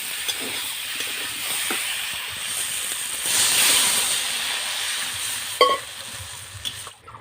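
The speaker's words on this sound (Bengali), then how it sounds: "ঝোলটা অনেকটাই ফুটে উঠেছে" Fish curry gravy with small potatoes, turmeric and chilli bubbling on the stove, a steady simmering hiss with soft stirring clatters and a brief louder scrape near the end, no voices.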